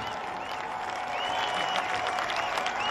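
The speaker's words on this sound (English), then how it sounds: "They're clapping the fans are clapping them" A crowd of fans applauds as the Luton Town team comes onto the stage at their promotion celebration, producing dense, continuous clapping heard from a distance with some faint cheering mixed in.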